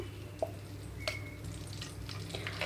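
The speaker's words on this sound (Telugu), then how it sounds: "ఇప్పుడు ఇందులోనే ఇంకొంచెంగా నెయ్యి వేస్తున్నానండి" Ghee going into a hot pan while making ravva kesari with jaggery, a soft low sizzle with a few light clinks of a utensil against the pan, quiet and close.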